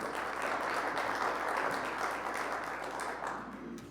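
Applause rises in a committee meeting room, a steady patter of many hands clapping together at moderate volume for several seconds, with no voices over it.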